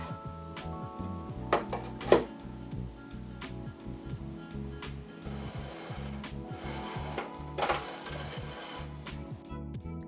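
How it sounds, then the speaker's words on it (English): An overlocker runs in quick rhythmic bursts, stitching the gathered seams of a dress made from a vintage sheet and doona cover, with mechanical ticking and a few sharper clacks, fairly quiet and close. "I overlocked all of the seams where I had done the gathering"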